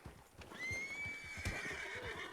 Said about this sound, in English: Oh, that horse.